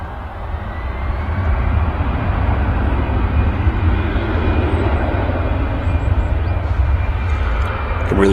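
Aircraft engine roar at Manchester Airport on a live plane-spotting stream, rising within the first second into a loud, steady rumbling drone that holds throughout, with no talking.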